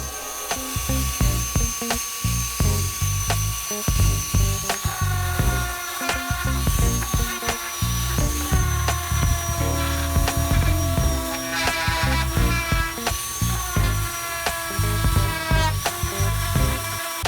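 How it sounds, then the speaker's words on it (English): A router table rounds over the edges of wooden pieces for a handmade toy, giving a loud, steady high-pitched whine with cutting noise that rises and falls as the wood is fed past the bit. "round over those edges so they're not so sharp using your router table or another tool"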